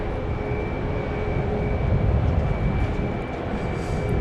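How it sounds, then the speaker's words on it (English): A Boeing 737 Max 8 airliner passes at Dallas Love Field, its steady engine roar broad and continuous, holding at moderate loudness with a slight swell midway and no talk. "Another Max 8."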